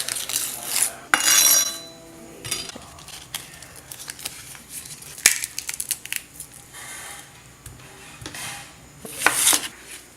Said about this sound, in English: So yeah, I'm gonna get chopping.